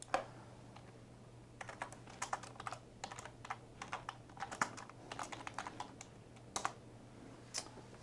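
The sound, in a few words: typing an address on a computer keyboard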